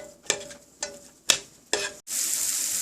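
Onions sautéing in a pan until light brown: four sharp scrapes of a spatula at roughly half-second intervals over a soft sizzle, then a sudden loud, steady hiss of frying.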